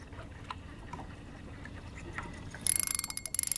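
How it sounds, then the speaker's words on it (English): A fishing reel's drag clicks as a crappie pulls line during summer fishing from a boat. Quiet water and ambient noise give way to a sudden burst of rapid, close, ratcheting clicks in uneven pulses near the end. "it feels gentle when you just listen to the drag"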